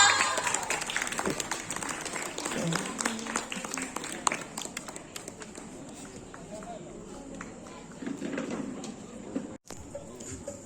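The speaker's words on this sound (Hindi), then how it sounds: "उनके लिए जोरदार तालियां" Hands clap for a first-place prize winner at a parish competition held for a May procession, a moderate crowd patter that gradually thins and fades amid chatter.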